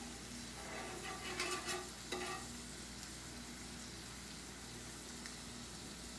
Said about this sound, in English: I'm gonna go ahead and start browning up my rye bread